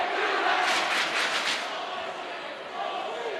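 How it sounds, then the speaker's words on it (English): Crowd noise swells at a high school boys basketball game between Davis and Layton in a gym after a made basket and a technical foul on the celebration, loud and sustained with cheering that eases slightly partway through. "And listen to the crowd here at Layton."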